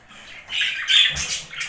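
Pet budgerigars squawk near their food in a short, close run of shrill, scratchy calls that rise and fall over a quiet indoor background.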